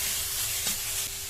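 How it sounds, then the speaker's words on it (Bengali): Grated carrots sizzle in an oily pan for a veg momo filling, giving a steady, close hiss with a faint stir near the middle. "বেশ কিছুক্ষণ একটু এইভাবে ভেজে নেব।"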